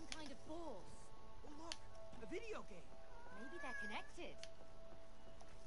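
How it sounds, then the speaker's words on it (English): A cat meows repeatedly in the video game It Takes Two, several short rising-and-falling cries spaced across the stretch, mixed with light game sounds and a steady background tone. "Hades, you see that cat?"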